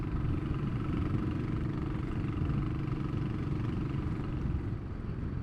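A Royal Enfield Classic 500 motorcycle engine runs steadily with a low, continuous thumping drone, fairly close and unbroken by speech.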